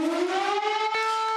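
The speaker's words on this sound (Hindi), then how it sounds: "अमूमन सायरन्स हमलों से पहले बंद हो जाते हैं, लेकिन हमेशा ऐसे नहीं होता।" Civil defense air raid siren wailing during wartime bombardment in the Armenia–Azerbaijan fighting, a steady, loud, tonal drone that rises slightly in pitch and holds, heard alone.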